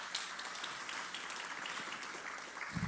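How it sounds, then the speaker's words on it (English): Audience applause at an awards ceremony honoring women and girls, a steady dense wash of clapping that holds evenly throughout, moderately loud and continuous with no voices. "Please give her a round of applause."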